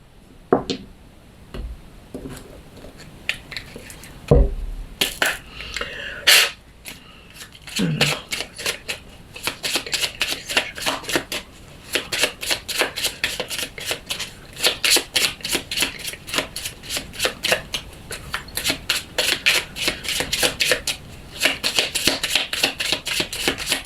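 A tarot deck being shuffled and cut, with a few loose card taps and thumps at first, then a long, rapid, steady run of crisp riffling flicks. Close and fairly loud, with a voice briefly audible early on.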